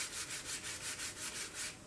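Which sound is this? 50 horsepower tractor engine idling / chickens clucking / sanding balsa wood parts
sanding balsa wood parts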